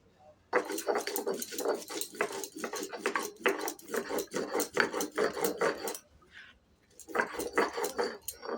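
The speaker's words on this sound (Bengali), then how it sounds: "এবার আমি গোটা জিরেটা বেটে নিচ্ছি" Whole cumin seeds being ground for a Bengali tilapia curry, a fast run of close, scraping grinding strokes in quick rhythm, pausing briefly before resuming, with no talk over it.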